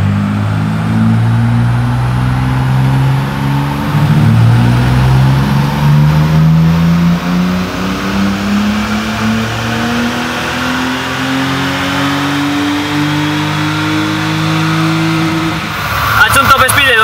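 BMW E30 engine run at full throttle on a dyno, a loud sustained rising roar as it pulls through the gears, holding for many seconds before cutting off abruptly, with a voice talking over it.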